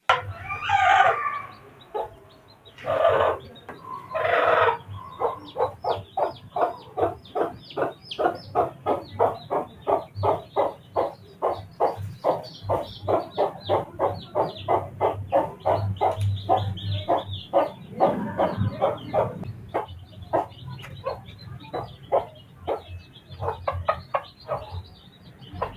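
Hens cluck in a long run of rapid, evenly spaced calls beside newly hatched chicks, with a few louder squawks and a crow at the start and a faint low hum behind.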